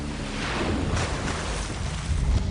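A 40-foot waterfall in the Borneo jungle pours down in a loud, continuous roar of rushing water, with gusty wind buffeting the microphone and no voices.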